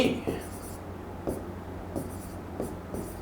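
Marker or chalk strokes on a board during an English grammar lesson, a few short scratchy bursts spaced apart against a quiet room hum, with faint voice-like murmurs.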